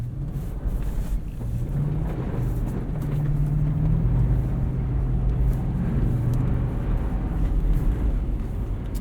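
Lexus GX 460 SUV on Cooper Discoverer AT3 4S all-terrain tires driving through snow, with a steady loud low road and engine rumble and wind noise running continuously throughout.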